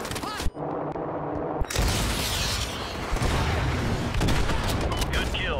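Sustained heavy gunfire and explosions from Call of Duty: Modern Warfare 2 Remastered, a dense, loud barrage of overlapping shots and booms with a brief lull near the start, continuing nearly unbroken to the end.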